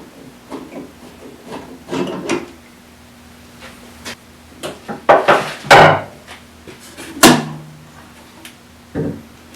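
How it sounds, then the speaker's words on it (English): Wooden knocks, scrapes and clunks as clamps are loosened and pulled off a freshly glued wooden shelf on a workbench, irregular and close, with a few louder clacks in the middle. "I'm going to get these clamps off and see how this thing looks."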